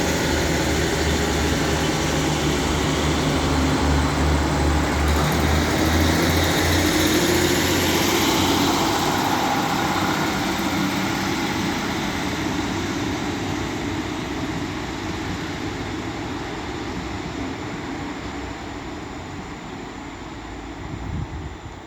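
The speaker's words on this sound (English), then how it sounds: "Now getting ready to depart is 156425 and 156408 with the 1826 Northern service to Clitheroe" Two Northern Class 156 diesel units, 156425 and 156408, pull away from Castleton on the 1826 service to Clitheroe, a loud rumbling engine drone that builds, then slowly fades as the train moves off, with no one talking.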